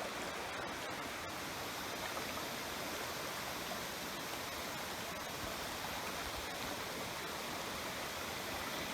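Steady, broadband rush of a river flowing close by near ancient Jomon caves, a continuous wash of water with no breaks, fairly loud and alone without any talk.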